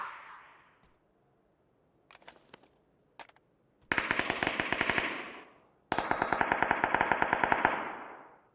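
Gunfire outdoors: a few scattered sharp single shots, then two close, loud bursts of rapid repeated shots, each lasting over a second, with silence between them.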